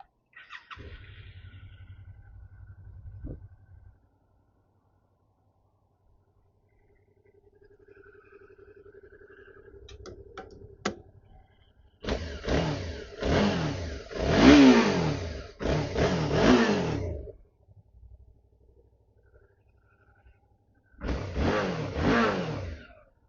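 A 2018 Suzuki V-Strom 650 XT V-twin motorcycle with 82,000 km starts and idles, then gives several sharp throttle revs in quick bursts, close and loud, with quiet pauses between them.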